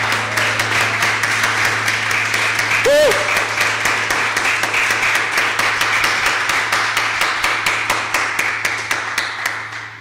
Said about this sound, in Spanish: Den un aplauso al Rey de la Gloria.